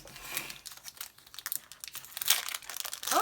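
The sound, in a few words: tearing open a Pokémon card pack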